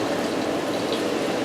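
Flour-coated chicken pan frying in stir-fry oil, a steady close hiss and crackle of sizzling with no talk.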